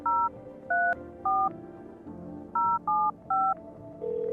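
Touch-tone phone keypad dialing in the video game No I'm Not a Human, six distinct dual-tone beeps in an uneven rhythm, clear and close, followed by a steady tone.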